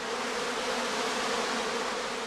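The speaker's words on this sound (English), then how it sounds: "the bees in the shaded hanging bags collect around their queen to form the swarm cluster" A honeybee swarm clusters around its queen inside a shaded hanging bag, giving a dense, continuous buzzing hum that stays steady and fairly loud throughout, with no voices.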